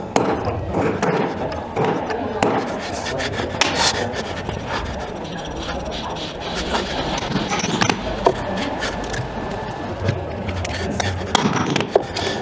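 Hammer tapping a center punch near the slot of screws on a tank return roller wheel in a workshop, giving sharp metallic knocks scattered among rasping, rubbing workshop noise, with brief talk.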